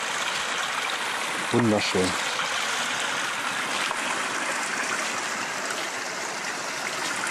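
Stream water flows steadily over loose scree beside a forest path, a constant broadband rush throughout, with a brief spoken word from a man near the start.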